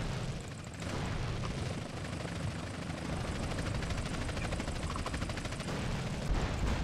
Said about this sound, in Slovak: ideme zničiť túto helikoptéru